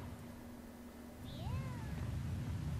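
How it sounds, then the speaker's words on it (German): A cat meows in the video game Tales of Xillia 2, one clear rising-and-falling call over a steady low game background hum. "Ich höre eine Katze."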